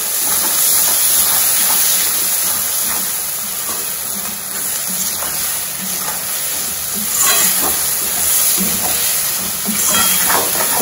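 Masala and tomato sizzle steadily while being sautéed in a pan for yam chops, a continuous loud frying hiss with brief bursts of stirring throughout, no talking.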